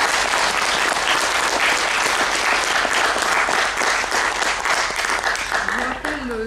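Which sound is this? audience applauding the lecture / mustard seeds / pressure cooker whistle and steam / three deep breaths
audience applauding the lecture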